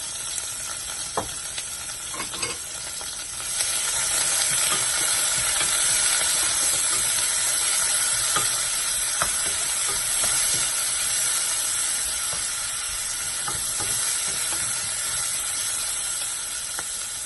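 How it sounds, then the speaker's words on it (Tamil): Onions and green chillies frying in hot oil for cabbage pulao, a loud continuous close sizzle that swells after a few seconds, with occasional light clicks of stirring and no talk. "வெங்காயத்தை கூடவே பச்சை மிளகாய் சேர்த்துக்கோங்க"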